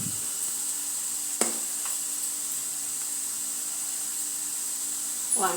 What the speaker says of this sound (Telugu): బంగాళదుంప వేగిపోయిందండి, ఫ్రై అయింది బాగా.